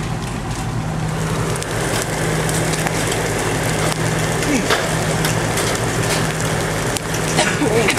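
Baseball-sized hailstones pound an awning in Belpre, Kansas during a June storm, a dense, continuous clatter of hard impacts with a low rumble underneath, loud and close throughout.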